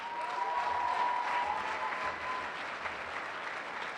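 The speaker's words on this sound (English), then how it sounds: "Round of applause." Sustained audience applause fills a hall at a live award night, a steady even wash of many hands clapping with a faint tone running through the first seconds.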